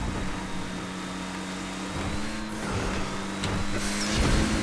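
Cars race in a drag event in GTA 5 Online, their engines holding a steady droning roar that swells slightly toward the end, continuous and fairly loud with no voices over it.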